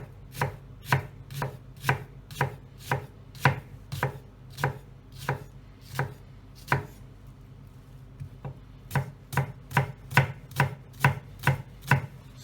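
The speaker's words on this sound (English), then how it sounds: "all we need to do with our onion is very finely chop it" A knife chops a brown onion finely on a board in steady, close, crisp strokes, about two per second, with a brief pause in the middle before the rhythm resumes.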